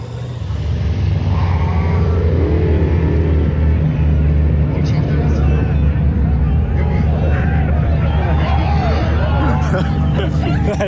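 A 1,000 horsepower Mercedes drift limo climbing a ski slope at a drag racing event, its engine roaring in a steady heavy drone with rising revs, over crowd chatter and shouting nearby.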